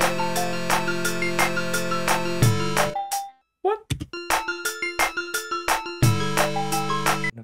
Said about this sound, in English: I feel like I'm gonna do an arpeggio again.